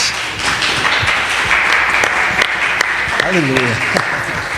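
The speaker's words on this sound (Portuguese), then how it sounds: "Vamos aplaudir o nome de Jesus." A church congregation applauds steadily throughout, a full wash of clapping from many hands, while a voice calls out over it briefly near the end.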